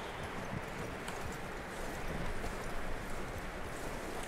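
Horse hooves clip-clopping in the video game Red Dead Redemption 2, a faint, dense patter of footfalls under a steady noisy background.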